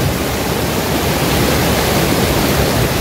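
River water rushes loudly and steadily over rocks at the Nha Trinh dam on the Cai River in Ninh Thuan, Vietnam, a dense, unbroken roar filling the scene close up with no voices.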